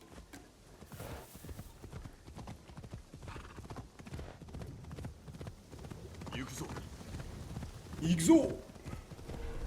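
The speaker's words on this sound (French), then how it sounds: "On y va à cheval" Horse hooves clip-clop steadily in the video game Assassin's Creed Shadows as a horse is ridden along, with a brief whinny near the end, while someone talks over the riding.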